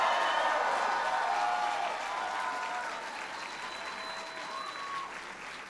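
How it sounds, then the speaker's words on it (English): A large crowd applauds members of Congress at an Asian Pacific American event, steady dense clapping with light cheering that holds throughout and gradually eases in loudness. "Give them a big round of applause."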